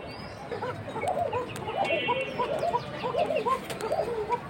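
A caged pigeon coos repeatedly in a steady run of soft, rolling calls close by, with faint background noise and a few higher chirps.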